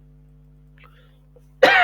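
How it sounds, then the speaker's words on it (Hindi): Near-silence with faint murmurs, then a single sharp, loud cough bursts out near the end. "सॉरी, मेरे को बहुत खांसी हो रखी है, तो बीच बीच में खांसी करता है"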